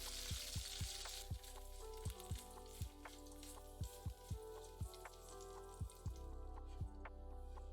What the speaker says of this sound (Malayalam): 3 വറ്റൽമുളക്, കുറച്ച് കറിവേപ്പില, ഇത് രണ്ടും കൂടിയിട്ട് 30 സെക്കൻഡ് മൂപ്പിക്കുക